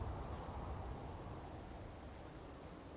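Steady in-game rain from Fallout 4 falls as a continuous soft hiss with low patter, even and unbroken throughout, with no talk over it.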